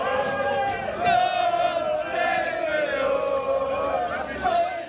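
A crowd of rioting football fans bellows and chants in loud, overlapping shouts with sustained sung tones and bursts of whooping, dense and close throughout.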